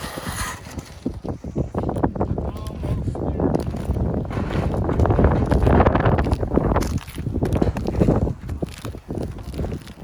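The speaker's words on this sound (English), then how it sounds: "Breezy out here again today." Steady wind gusts rumble and buffet the microphone outdoors on a boat near a barge, a broad rushing roar that swells and eases, with faint talk underneath.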